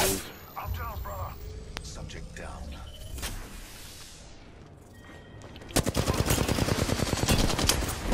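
Gunfire in the video game Apex Legends: a rapid automatic burst rings out loud and close near the end, after scattered shots and game noises, while a player talks over the first part.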